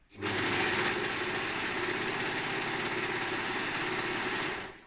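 A sewing machine stitches through the thick hem of a pair of leggings, a steady loud mechanical whir running continuously for several seconds close to the listener, with no talking.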